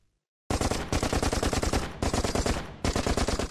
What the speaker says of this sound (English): Okay, so this is a machine gun.